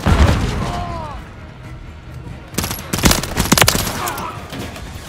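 Gunfire and explosive booms in Call of Duty Modern Warfare 3 multiplayer on the Rust map, with a heavy impact at the start, then a quieter stretch and a cluster of sharp, loud bursts of shots.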